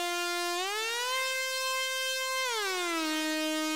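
Mellow siren-like synth sweep without reverb, a clean sustained tone gliding up, holding, then sliding back down, loud and alone.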